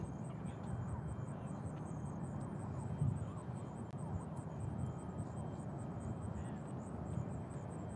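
An American Airlines airliner arriving from Charlotte lands on runway 2 right at Nashville International Airport. Its engines give a steady, distant roar and rumble, with a faint high whine above and no talking.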